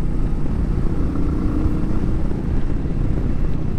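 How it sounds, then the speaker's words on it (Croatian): A Royal Enfield Meteor 350 motorcycle engine runs while being ridden, a constant low throbbing rumble mixed with wind rush, loud and unbroken throughout. "Ne znam da li će se na ovom mikrofonu čuti motor uopšte."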